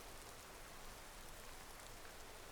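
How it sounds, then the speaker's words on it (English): Steady rain falls in the Skyrim video game, a continuous even patter that fills the scene on its own with no voices. "Don't you just love a bit of rain?"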